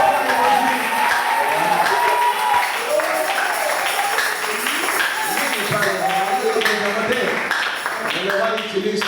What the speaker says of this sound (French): Vous applaudissez pour le roi.